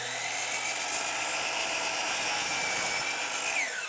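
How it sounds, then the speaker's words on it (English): A power miter saw cuts a wooden board to a 5-foot length for a workbench, a steady, loud whining cut sustained throughout, its pitch dropping slightly toward the end as the blade spins down. "So I'm going to cut this on the miter saw."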